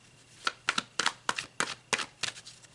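Playing cards being shuffled during a weekend tarot-style reading, a run of about eight quick crisp riffling bursts in steady rhythm, close and fairly loud with no talking.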